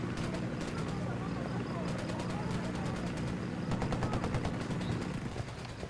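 Rapid automatic gunfire rattles in bursts during a Ghost Recon Wildlands firefight, a dense run of sharp cracks with a voice talking over the shooting.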